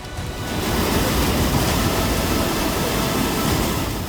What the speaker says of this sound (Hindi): पानी का तेज बहाव वैन को बहा ले जाने को बेताब है